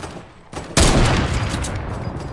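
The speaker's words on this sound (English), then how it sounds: "I headshot him for 68" Gunfire in a shooter video game, a lone shot followed by a loud, sustained burst of rapid fire that rings out close and heavy.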